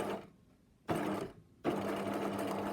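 Sewing machine stitching elastic down onto fabric, a steady whirring hum in two close bursts separated by short pauses, loud and alone.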